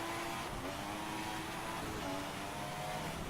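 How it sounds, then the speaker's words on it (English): A car engine in the F1 2016 racing game held at high, strained revs, producing a continuous whining drone with steady pitch bands, moderately loud and without talking. "Really over revving that engine."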